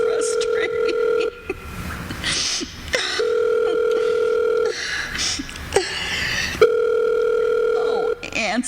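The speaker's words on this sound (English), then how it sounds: "Oh, answer the phone." Old-style telephone ringing in a radio drama, long repeated rings separated by short pauses, loud and close, with voices talking between the rings.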